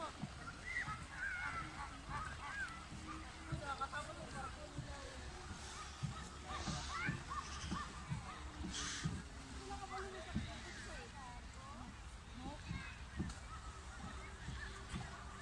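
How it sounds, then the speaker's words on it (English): Ducks and geese honk and quack in a busy chorus over lapping water at Parque Europa, with people talking in the background throughout. "There's a lot of ducks."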